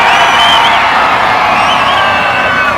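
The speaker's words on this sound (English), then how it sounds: "If you want the Viper to win, as loud as you possibly can, cheer for me right" A large crowd at a supercar weekend cheers and whoops loudly together, a dense sustained roar of voices close by.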